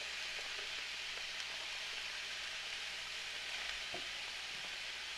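Cabbage frying in oil in a pan for a fridge clean-out stir-fry, a steady, close hiss and sizzle with faint scraping of stirring underneath and no talk.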